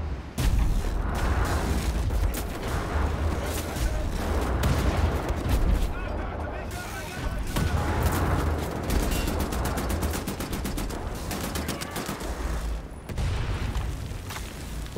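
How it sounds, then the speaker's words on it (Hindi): Bomb explosions and gunfire in Wolfenstein: The New Order, heavy booms and rattling shots packed into a loud, nearly continuous barrage with brief dips between volleys. "लोगों ने बम मारा मुझ पे। एक और भी बम आया।"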